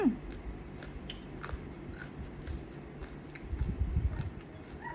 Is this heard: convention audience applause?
no